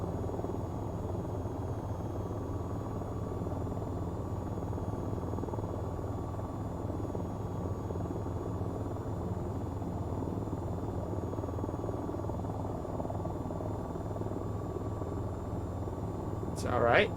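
AH-94 helicopter in the flight game VTOL VR, a steady droning rotor and engine hum held throughout at an even level, with a brief higher-pitched sound at the very end.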